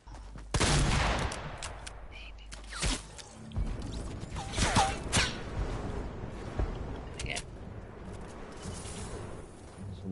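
Gunfire erupts in the video game Fortnite Season 5, a loud opening burst followed by scattered sharp shots and rattling volleys, with voices talking over the shooting.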